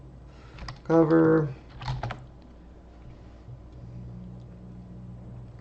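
Brief burst of keyboard typing as a search is entered on a computer, a short cluster of key clicks early on, followed by a quieter tap and then a soft hum.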